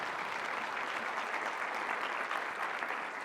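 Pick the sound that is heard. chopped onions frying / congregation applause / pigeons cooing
congregation applause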